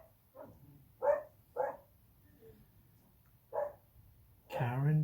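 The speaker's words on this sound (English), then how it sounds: "You can probably hear her barking." A dog barks a few times with gaps between, sounding somewhat distant and muffled, in an otherwise quiet room.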